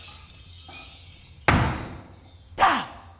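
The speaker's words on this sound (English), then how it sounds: "The noise of a bottle smashing on the cement floor brought a sharp damned." A glass bottle smashes on a cement floor indoors: a faint clink, then two sharp shattering crashes about a second apart, each loud and bright with scattering shards, over a quiet background.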